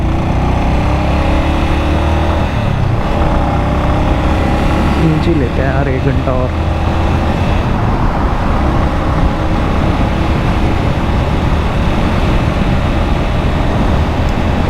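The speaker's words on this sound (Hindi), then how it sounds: "सौ किलोमीटर हो गए हैं बाइक को लगातार चलते हुए।" Motorcycle riding along a highway between Chandigarh and Delhi with traffic around, a loud continuous engine and wind roar throughout, with someone talking over it.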